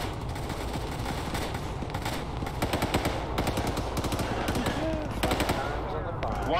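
Rapid automatic rifle and machine-gun bursts in the military shooter Arma 3, with repeated crackling volleys at mid distance and a steady rumble underneath, while players talk over the radio.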